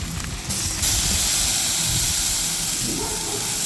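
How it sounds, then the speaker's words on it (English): A burger patty sears in hot oil on a camping stove, a loud, steady, close hiss of frying that swells early and holds throughout. "the hot oil is searing the patty before it releases all of its juices"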